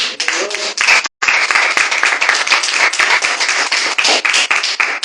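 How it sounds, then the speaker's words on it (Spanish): A church congregation breaks into loud, dense applause that carries steadily with only a brief pause near the start. "Dale un aplauso a Dios"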